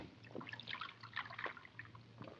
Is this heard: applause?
no